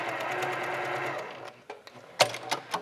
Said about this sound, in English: I'm just gonna carefully sew a 1/4 inch seam